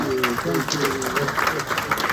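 Gala audience at the African Leadership Awards in New York applauds steadily, with a voice speaking over the clapping.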